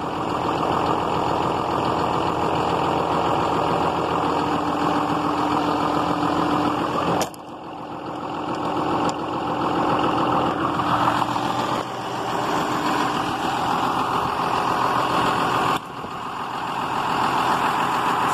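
A John Deere 6620 Premium tractor's large diesel engine runs steadily at idle, a continuous low rumble with brief dips in level, close by with no voices.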